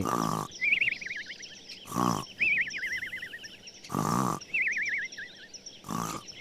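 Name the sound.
wolf snoring in a cartoon story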